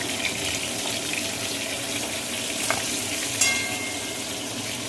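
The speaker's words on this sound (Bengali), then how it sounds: "আমার পটল কিন্তু একদম ভাজা হয়ে গেছে এবার উঠিয়ে নেব" Pointed gourd frying in oil in a wok, a steady close sizzle and crackle throughout with a few brief scrapes and clinks of stirring, no voices.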